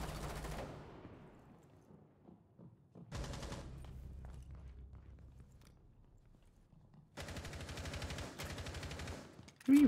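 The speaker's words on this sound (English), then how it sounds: "Who are you shooting at?" Automatic gunfire crackles in a Rainbow Six Siege round, several sustained bursts separated by quiet stretches with faint scattered clicks, the last burst loudest and closest.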